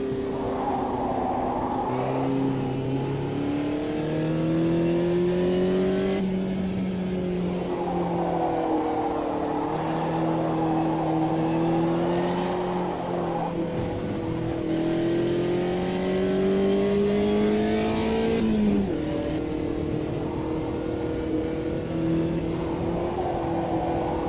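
Old Volkswagen Beetle engine in the Automobilista 2 racing game, revving steadily with rising and falling pitch as gears change, a loud continuous drone throughout with no talk.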